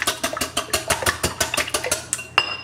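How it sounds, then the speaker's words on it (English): Eggs beaten in a separate bowl for buttery raisin scones, a utensil clicking rapidly against the bowl in a steady rhythm of about a dozen close, fairly loud strokes, ending with a brighter clink. "in a separate bowl is go ahead and combine the eggs and mix them so they're lightly beaten"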